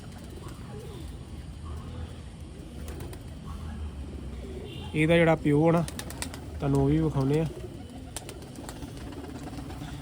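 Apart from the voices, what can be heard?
pigeons cooing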